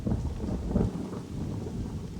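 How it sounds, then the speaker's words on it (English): A sporadic desert downpour with thunder: a steady, dense wash of rain under low rumbling thunder, loud and continuous for a couple of seconds with no voices. "Each sporadic downpour may only last minutes, but it can bring life, and in spectacular numbers."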